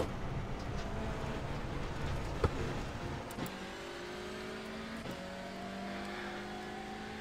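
Hyundai TCC touring race car engine in iRacing: a steady, fairly faint motor drone with shifting pitch as it revs, with a few short clicks and knocks and no talk.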